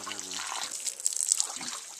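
Water is poured to wash off after gutting a Dall ram outdoors, a splashing trickle that gushes and patters unevenly for a couple of seconds, fairly close, with brief voices nearby.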